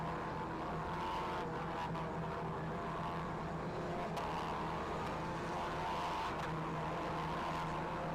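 Volkswagen Polo Cup race cars on a circuit during a race, a continuous droning engine roar with a steady hum and slight rises, sounding from inside or near a car, with no clear voices.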